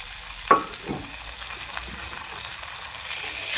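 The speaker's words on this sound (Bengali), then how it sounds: "পেঁয়াজের সঙ্গে আদা বাটা রসুন বাটা কিছুক্ষণ ভেজে নিলাম।" Onion with ginger and garlic paste frying in a pan, a soft steady sizzle with a few stirring scrapes and clinks, close and fairly quiet.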